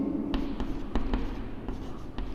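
A pen writes by hand on paper, close and steady, a soft continuous scratch broken by a few light taps as letters and strokes are formed, with no voices.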